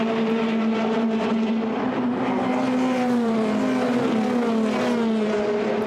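Formula Renault 2.0 race cars scream past at Monza in a close pack, a loud, sustained high engine whine with shifting pitch as several cars pass in turn.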